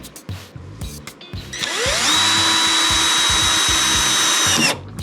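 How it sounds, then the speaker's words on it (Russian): After a few quiet taps, a power screwdriver drives a screw into wood, whirring up and running steadily for a few seconds, loud and close, then stops abruptly. "И закручивай саморез полноценный."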